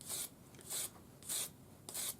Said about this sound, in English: I'm just sanding with the sanding stick and 400 grade paper, following the curve of the ring